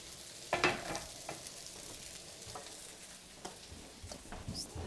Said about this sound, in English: fry for a few minutes or saute